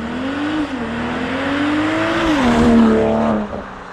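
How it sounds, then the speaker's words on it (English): A car with a stock exhaust roars past close by, its engine note climbing and then dropping away as it passes, loud and steady for a few seconds. "Quick drive-by with the stock exhaust on there."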